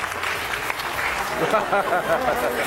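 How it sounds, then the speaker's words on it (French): Audience applause at a French stage show featuring a pickpocket act: a sustained wash of clapping from a room crowd that swells toward the end, with a voice speaking over it. "On l'applaudit, s'il vous plaît."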